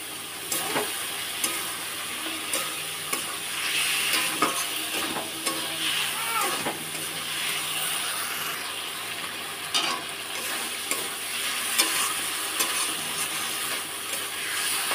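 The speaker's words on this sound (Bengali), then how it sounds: "সব মশলাগুলো একসাথে ভেজে নেব।" Ground spices such as turmeric and chilli powder fry with fish for a bitter gourd curry, giving a steady close sizzle with frequent scraping stirs of the spatula throughout, and no voices.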